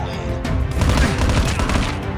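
Rapid automatic gunfire from a rifle in the Call of Duty video game crackles in a dense, continuous burst at close range, loud and without talk.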